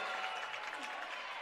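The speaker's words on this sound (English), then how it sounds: "Crowd loving Michaela Clement right now." A basketball crowd claps and cheers in a faint, steady wash of applause that fills the arena from start to finish.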